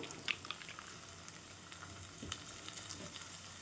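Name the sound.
cowpea pods frying in oil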